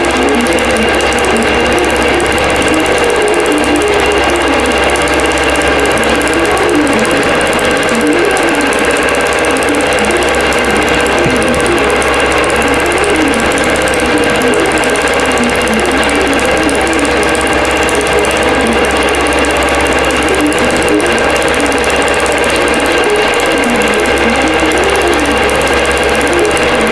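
An embroidery sewing machine stitches out a quilt block with a fast, steady mechanical hum and needle chatter. It runs loud and close without a break.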